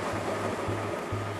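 Man-made surfing waves at a wave park roll in as a steady, broad water roar, with a low repeating surge that pulses roughly every half second over continuous wash.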